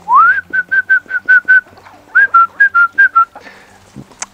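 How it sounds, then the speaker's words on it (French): A person whistles to call hens in a vegetable garden: two runs of short, evenly spaced rising whistle notes, loud and close, with a brief pause between them and faint rustling at the end. "il suffit que je siffle pour les amener"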